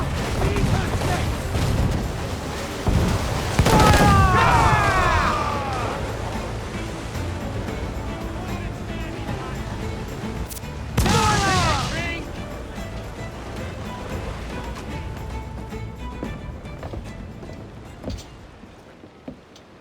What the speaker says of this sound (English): Fire! Incoming fire!